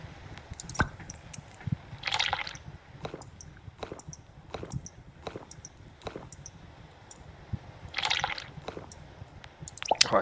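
Drinking water in the sailing video game Sailwind, a series of soft wet gulps and clicks at an even pace, with two brief hissing splashes, faint and close.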